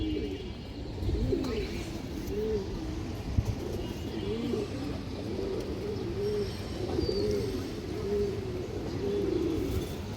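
Pigeons at a pigeon farm coo in repeated rolling calls, several birds close by overlapping at a steady rhythm over a low background murmur.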